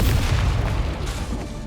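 Incendio fire spell cast in Hogwarts Legacy, a dense roaring burst of flame and rumble that holds steady for under two seconds, loud and close with no talking.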